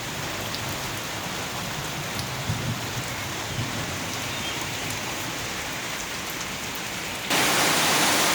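Heavy rain pours down again in a steady, dense hiss that fills the whole scene, then swells louder near the end; no voices.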